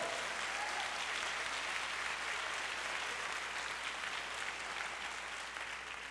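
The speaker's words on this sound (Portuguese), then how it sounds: "Você quer aplaudir ao Senhor? Então aplauda." A church congregation applauds during a worship service, steady, sustained clapping from many hands, fairly faint and distant, with no speech over it.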